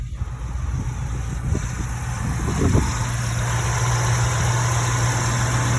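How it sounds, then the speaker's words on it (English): A 1949 Lincoln Cosmopolitan flathead engine idles close by with a steady low rumble and light crackle. Engine speed rises briefly near the middle, then settles back to an even idle. "flathead crackle and rumble."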